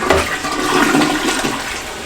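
A toilet in a hotel guest bathroom flushes with a loud, close rush of water that lasts the whole short stretch, with nothing else audible.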